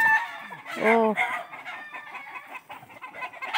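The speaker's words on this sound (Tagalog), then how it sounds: "Ang daming manok ng aking tatay mga guys." Chickens of mixed breeds, including white hens, cluck and squawk in a fenced backyard yard, with one rising crow-like call standing out among the steady, close clucking and a brief spoken exclamation.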